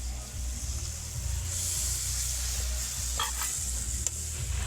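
Water poured into a pan of frying tilapia for an oily chili fish curry sets off a loud, continuous sizzle, with stirring scrapes and a low steady rumble underneath.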